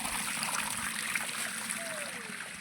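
Water runs along a small village stream in a steady, continuous rushing trickle that stays close and fairly loud throughout, with no clear voices over it.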